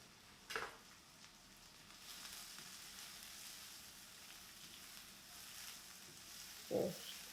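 Onions sizzle faintly in hot olive oil in a pan, a soft continuous frying hiss with a couple of brief clatters from stirring.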